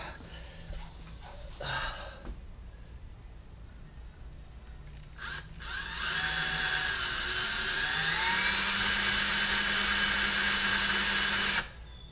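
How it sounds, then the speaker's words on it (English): A power drill whines steadily at close range as it bores a hole in a car's rear spoiler on a 2018 Dodge Charger Scat Pack, with short starts first, then a loud sustained run of several seconds before stopping. "There is now a hole drilled in my spoiler."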